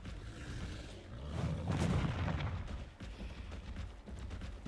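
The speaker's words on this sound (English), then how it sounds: "One of the funnest attacks on this guy is their X attack." A Chungkingosaurus unleashes its X attack in the Additional Creatures 2 game: a heavy, booming impact that swells to a broad rumble midway, then settles back into steady background game noise, with no talking.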